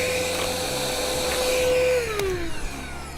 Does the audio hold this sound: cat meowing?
no